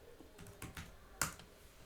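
Typing on a computer keyboard, a few quiet, separate key clicks in an irregular rhythm with one sharper tap near the end, close and soft with no talk.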